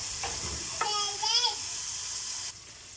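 Minced meat searing in a hot pan on its own before onions go in, a steady broadband sizzle running throughout with a brief voice-like tonal sound in the middle, then dropping quieter near the end.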